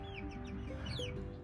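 Chickens cluck and murmur softly near a coop, with several overlapping calls and short chirps forming a continuous close backdrop without talk.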